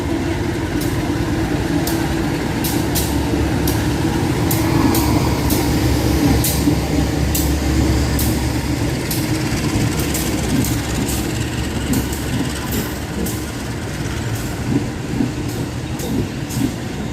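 A Motis Selatan freight train rolls into a station near Jakarta at night, giving a steady heavy rumble of engine and wagons with repeated rhythmic clacks of wheels over rail joints throughout.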